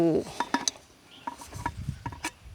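Fire Maple camping cookware pot set being unpacked, with light metallic clinks and clatters of nested pots and lids, scattered taps and scrapes at close range over soft handling rustle.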